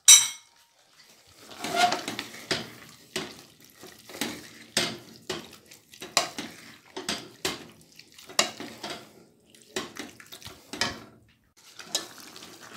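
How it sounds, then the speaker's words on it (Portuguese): Beef stirred in a pan with carrot, broccoli and cauliflower, producing a steady series of utensil scrapes and clinks against the pan, with rhythmic bursts repeating every half second or so, close and fairly quiet. "Misture, acrescente a cenoura, o brócolis e o couve-flor e misture."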